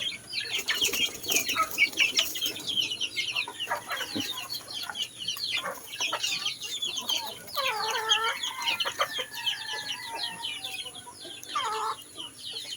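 Native chickens and chicks cluck and peep steadily at close range in a rural yard, with layered calls, brief wing flaps and outdoor background noise, with no talking.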